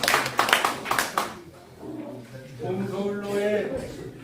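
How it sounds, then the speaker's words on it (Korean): A short burst of clapping at a church prayer gathering honoring a 101-year-old elder, loud and ragged for about a second before a voice takes over and continues speaking. "박수!"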